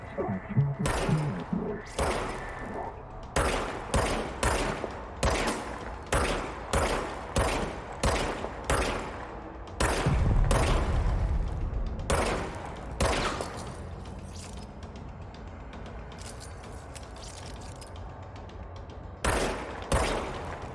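Gunfire from a gun in the video game Control: loud, close shots fired in steady rhythmic bursts, one after another, with a few heavier thuds mixed in and a brief pause before the final shots.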